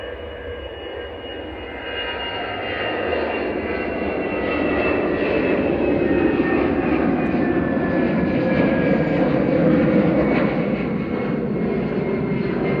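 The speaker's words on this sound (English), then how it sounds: "EasyJet on the roll to Amsterdam A319" An EasyJet Airbus A319 on its takeoff roll at Manchester Airport, bound for Amsterdam, engines rising from a moderate rumble to a steady, fuller roar with whining tones drifting across, heard from a distance without talk.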